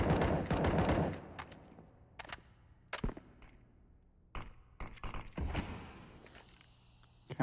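Desert Eagle pistols and scout rifles fire in a competitive CS:GO match on Mirage, a dense opening burst followed by scattered sharp single shots spaced irregularly, loud and close.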